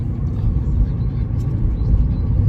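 A car drives home along a muddy rural road, its engine rumble and road noise heavy and steady throughout, close and loud from inside the vehicle.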